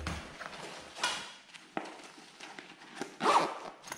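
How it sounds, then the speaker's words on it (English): A zipper on a Maxpedition Beefy EDC pouch is pulled in several short, quiet rasping strokes close up, with light handling rustles between them and no talk. "A zip behind, where you can put items and zip it up."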